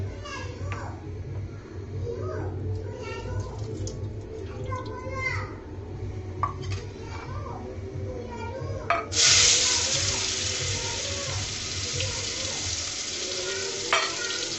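Oil left over from frying fish sizzles in a pot with steady crackling, then a louder surge of hiss partway through as more goes in, while a voice talks over it.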